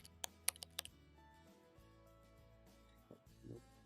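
Faint keystrokes on a computer keyboard tap in a quick burst of several clicks, then a few scattered taps follow, soft and close in a quiet room.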